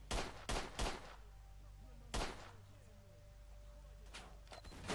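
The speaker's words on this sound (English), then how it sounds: "And we are doing some shooting at those guys again." Gunfire rings out in the video game S.T.A.L.K.E.R. during a fight with bandits. Three quick shots come first, then a lone shot after a pause, with fainter shots near the end. Each report is sharp and booming.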